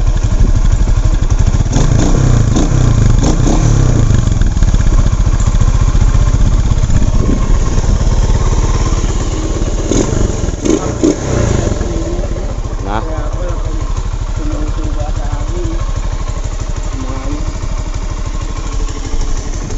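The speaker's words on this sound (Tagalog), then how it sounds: "Ito nga pala yung motor na kakalkalin ko yung tambutso." A motorcycle engine idles with a rough, clattering rumble, revving up in a few bursts before settling back to a steady idle; a voice speaks intermittently.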